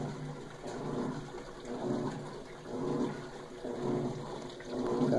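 An Electrolux LTS12 washing machine takes in water: a rushing, gurgling flow that swells and ebbs in slow pulses about once a second, moderately close and continuous, with no talk.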